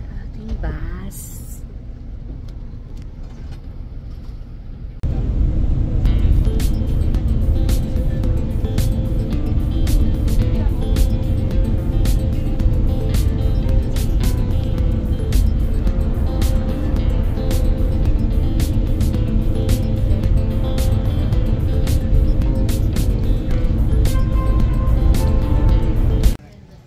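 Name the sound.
riding inside a bus to Shinjuku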